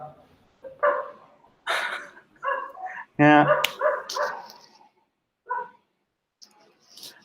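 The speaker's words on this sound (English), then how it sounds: "That's a very Colombian dog." A dog barks once, loud and close, in the middle of a Python programming meetup in Medellín, with people talking before and after.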